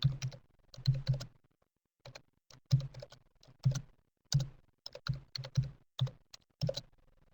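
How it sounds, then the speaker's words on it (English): Keys clack on a computer keyboard in quick bursts of typing separated by short pauses, close and fairly quiet with no talk over it. "if I can type right."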